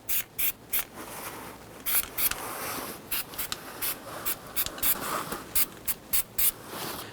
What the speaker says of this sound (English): Go ahead and spray it down with some solvent.